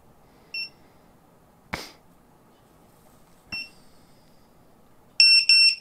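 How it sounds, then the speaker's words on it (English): A self-powered ViFly Beacon drone beeper gives short, high electronic chirps spaced a second or more apart, with a couple of clicks between them, then two louder, longer beeps close together at the end. "let's wait a little bit and it will start beeping"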